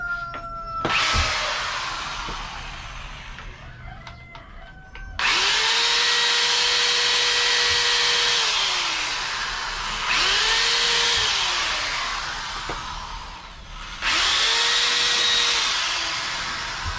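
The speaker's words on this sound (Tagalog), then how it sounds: "Finally, ilalagay ko na itong tornilyo niya." A power drill drives a screw into PVC pipe for a chicken feeder in three loud whining bursts. Each burst spins up, holds, then winds down, with short pauses between them.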